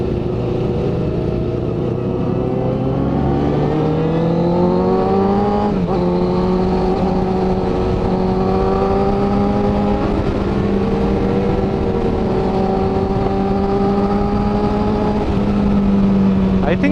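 A Husqvarna motorcycle on a busy Mumbai road revs hard with a loud, continuous engine note climbing and holding in pitch for the whole stretch, close by amid traffic.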